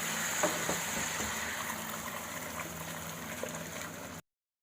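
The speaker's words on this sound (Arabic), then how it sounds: "بعد كده تنزلي بقى بالميه المغليه على طول،" Boiling water poured into a pot of browned meat seasoned with cardamom and black pepper, a steady close hiss and bubbling liquid rush lasting about four seconds before cutting off, with no voices.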